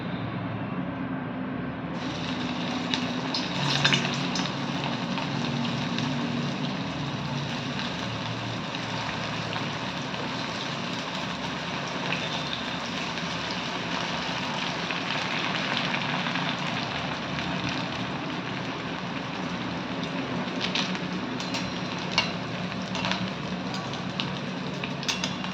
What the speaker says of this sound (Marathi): आता आपण बाटी तळून घेणार आहोत.